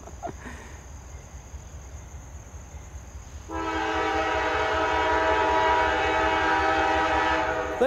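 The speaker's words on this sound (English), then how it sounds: "I hear the train's coming!" A train approaching and sounding its horn, a sustained loud blast that starts midway over steady rumbling rail noise, close by with no talk.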